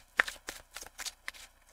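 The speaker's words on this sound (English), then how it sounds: "Two shuffles." A tarot card deck is shuffled by hand in a quiet room, giving several quick papery riffling bursts in an uneven rhythm, close and fairly soft.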